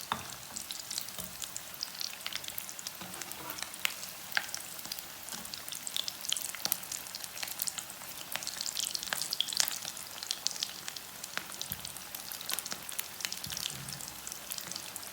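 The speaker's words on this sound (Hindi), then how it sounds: "ये देखें, टिक्कियाँ हमारी बहुत ही अच्छी फ्राई हो रही है।" Potato patties (aloo tikki) frying in hot oil give a steady, close sizzle with dense crackling and popping throughout, no voices.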